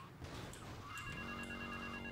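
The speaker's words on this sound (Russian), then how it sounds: "звонит кто-то" A phone rings inside GTA Trilogy Definitive Edition, a faint electronic ringing tone rising and then holding steady over a murky, continuous game background.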